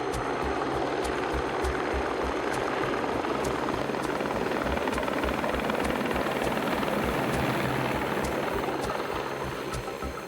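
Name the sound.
rescue helicopter flying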